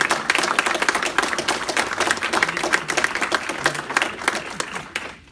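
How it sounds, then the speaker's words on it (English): An audience claps for an ambassador at a Vesak celebration, a dense, steady round of applause that carries loudly for several seconds before tapering off at the end. "Please give him a big hand of applause"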